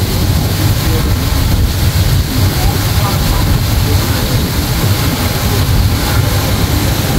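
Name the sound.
passenger launches passing on river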